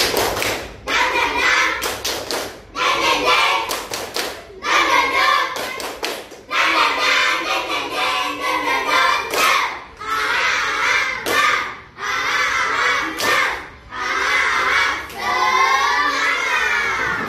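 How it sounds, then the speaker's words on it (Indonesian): Schoolchildren in a fifth-grade classroom perform a rhythmic spirit clap, bursts of sharp hand claps and taps in patterned groups with brief pauses, mixed with shouting voices, loud and close. "Oke, 1, 2, 3, tepuk semangat."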